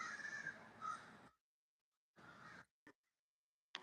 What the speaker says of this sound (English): feed the crows